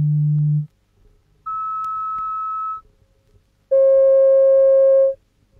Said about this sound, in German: Sie hören verschiedene Sinustöne in verschiedenen Lautstärken.